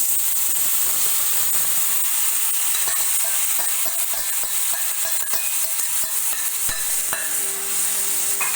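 Marinated chicken meat hits a hot pan of fried spices for chicken tehari, setting off a loud, steady sizzle with occasional stirring scrapes, close and without talk.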